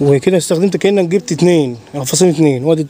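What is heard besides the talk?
No everyday noise stands out behind the speech.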